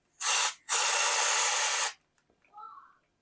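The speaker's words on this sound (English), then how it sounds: "I'm gonna spray this solvent in the bag" Short bursts of solvent from a spray can aimed into a bag, a brief hiss then a longer steady two-second blast at close range, followed by a faint rustle.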